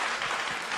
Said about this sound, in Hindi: चलो बजा लें जोरदार ताली